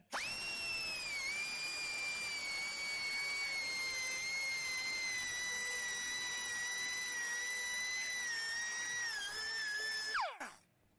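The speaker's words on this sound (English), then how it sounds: "Now I'm just using a little carbide burr." A small carbide burr in a rotary tool grinds a circle into metal with a continuous high-pitched whine that holds steady for about ten seconds, then spins down and stops at the end.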